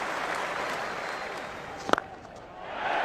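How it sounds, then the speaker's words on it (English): A large cricket crowd at an England v Australia Ashes Test roars and applauds a boundary, a broad sustained cheer filling the ground with a sharp clap-like hit near the end. "Big cheer goes up all around this ground"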